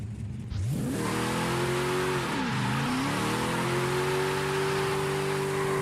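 A car engine in Forza Horizon 5 revs up hard, climbs, dips briefly, then surges again into a sustained loud high drone, close and without talk.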